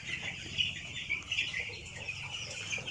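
Eleven-day-old broiler chickens crowded in a grower house, a dense chorus of soft clucks and high peeping calls overlapping continuously, fairly faint, with no talk.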